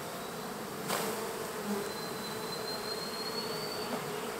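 Bees from a rescued colony living in a hollow tree make a steady, close buzzing drone that continues the whole time, with one brief sharper sound early on.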